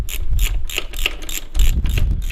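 Repeated metallic ratcheting clicks from a 12mm or 14mm caliper bolt being slackened off on a Yamaha MT01 motorcycle brake, close and steady in a quick rhythm with no talk.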